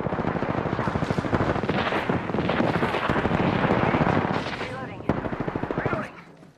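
An artillery strike in Apex Legends Season 2 lands as a long, rapid barrage of loud impacts that rumble together. One sharp crack stands out near the end before the barrage tails off.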